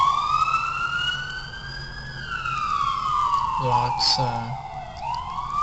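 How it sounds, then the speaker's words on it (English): A police car siren passes on a city street, its wailing tone rising and falling steadily throughout, with engine rumble and a brief burst of other noise partway through and a voice speaking briefly. "I will let the police car pass"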